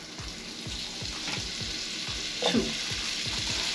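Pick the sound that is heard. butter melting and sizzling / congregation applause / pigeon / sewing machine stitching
butter melting and sizzling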